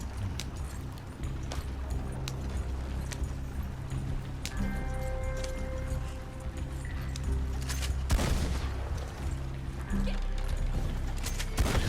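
Shotgun fire in the video game Red Dead Redemption 2: one heavy, close blast stands out partway through, amid ongoing game ambience with hoofbeat-like clopping.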